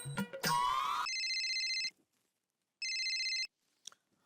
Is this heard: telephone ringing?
yes